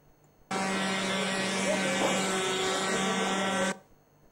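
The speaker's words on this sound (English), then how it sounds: "The sound that you hear is because of the engine." A remote-controlled airship's engine gives a steady, loud mechanical drone with a constant low hum, starting abruptly, holding for about three seconds, then cutting off.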